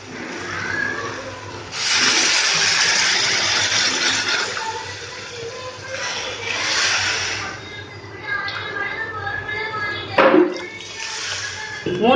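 Three tumblers of water poured into a pan of sautéed vegetables while cooking wheat rava upma, splashing and sizzling in separate bursts, close by, with a person talking over it.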